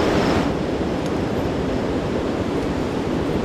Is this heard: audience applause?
no